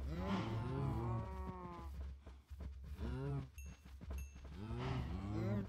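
Several cows moo in Minecraft, with long, low calls at the start, the middle and the end over a steady background hum, close and clear.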